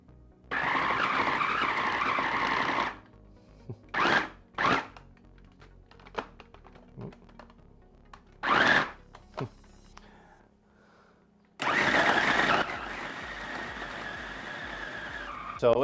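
An appliance purees a mixture for a giant homemade hotdog, giving a loud, steady whirring burst, then several short jolts and a quiet stretch, then another long, loud grinding run.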